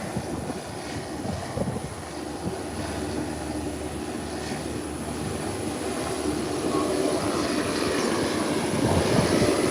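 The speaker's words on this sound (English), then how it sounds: "But let's look at the Twin Otter. It's actually up already. Very short takeoff." A Twin Otter turboprop taking off with a very short run, its steady droning engine roar filling the air and slowly growing louder, broad and constant, with no voices.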